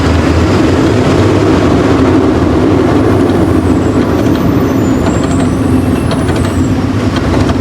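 Heavy traffic jam on a village road, with trucks and buses idling and rumbling nearby as a steady, loud, continuous engine drone, with faint hissing of air brakes.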